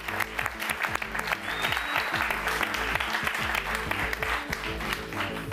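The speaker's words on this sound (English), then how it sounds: "you guys are meant to be clapping" Steady applause from an audience at an awards event, dense clapping filling the whole stretch at an even, fairly loud level.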